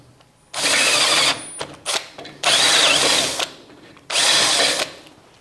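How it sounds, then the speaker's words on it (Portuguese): Power drill boring holes into wood during a furniture-making class, heard as three loud sustained bursts of whirring and grinding separated by short pauses and a few brief spurts. "Quando chega no final do furo, antes dele vazar, ele dá uma travada. Então você gira um pouquinho mais rápido."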